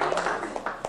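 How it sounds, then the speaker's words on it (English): A small family group claps at a 50th birthday in a short burst of close, uneven handclaps, with a few voices mixed in. "Let's give him a round of applause, huh?"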